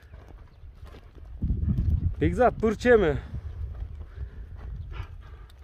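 Hooves of a fast racehorse clip-clop in Kara-Suu, with a loud burst in the middle that may include a horse call. People talk throughout.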